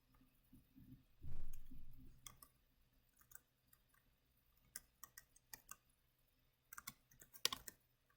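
Formula typed on a computer keyboard, quiet scattered clicks and short bursts of keystrokes close by, with a brief soft thump early on.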